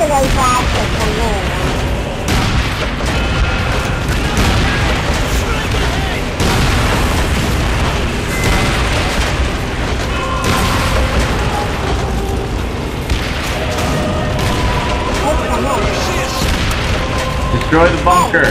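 Loud, continuous booms and blasts from the World War II shooter Call of Duty: World at War, with frequent bursts of gunfire layered over a dense battle din, running steadily throughout.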